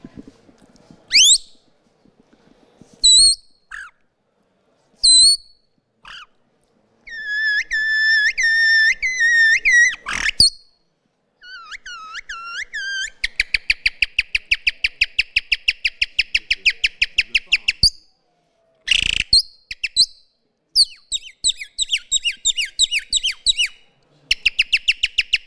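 A person whistles an imitation of a nightingale: varied trills, rapid repeated chirps and rising phrases in bursts separated by short silences.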